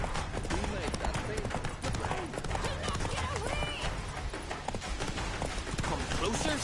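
Roach the horse galloping in the video game The Witcher 3 on PS5, rapid rhythmic hoofbeats mixed with game music and effects, with people talking throughout.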